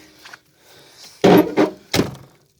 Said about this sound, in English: Door's still closed solid.